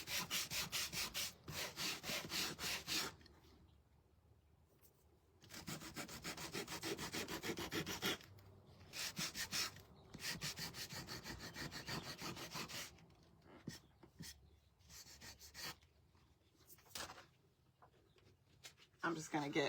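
Sandpaper rubs back and forth over a handmade wooden bee figure to distress it, giving repeated bursts of gritty scraping strokes with short pauses between them, close and fairly loud with no voice over it.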